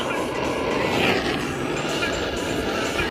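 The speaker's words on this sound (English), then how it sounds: "Got the Portasol heat blower on, and we're going to heat shrink the positive terminal so I know what's what." Portasol heat blower running steadily while heat-shrinking sleeving onto a positive wire terminal during work on a Vauxhall Combo, a continuous close roaring hiss that holds evenly for about three seconds and then cuts off.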